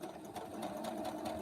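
Sewing machine chain stitching, a fast regular mechanical stitching rhythm that runs steadily and close, alone without talk.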